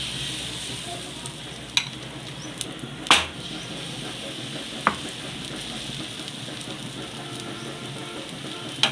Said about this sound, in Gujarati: તો હવે આપણે આને હલાવીને સરસથી